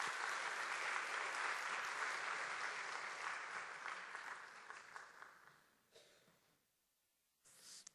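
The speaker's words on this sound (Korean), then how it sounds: "박수로 맞이하겠습니다." Audience in a school chapel service applauding to welcome a student speaker, a dense, even round of many hands that gradually fades out, followed by a brief quiet and a little rustle.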